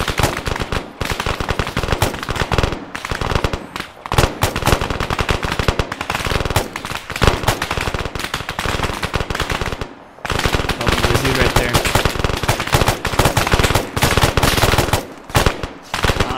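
Sustained machine gun fire in the Arma 3 zombie game, loud rapid bursts chattering almost without pause, with brief gaps and one short break midway, faint talk now and then underneath.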